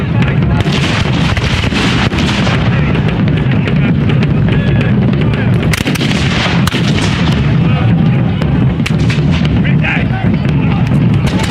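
Musket volley at an English Civil War reenactment, loud continuous booming gunfire and crackling reports with heavy wind buffeting the microphone, filling the whole stretch.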